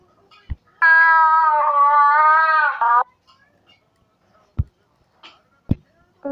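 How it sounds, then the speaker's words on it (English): A drawn-out, tonal meow of about two seconds, loud and close, followed by a few sharp knocks and a short second cry at the end. "I'm a little kitty and I meow meow meow."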